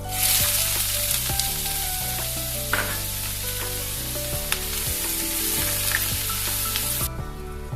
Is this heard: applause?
no